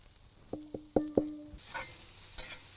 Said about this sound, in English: Just saute that really quick.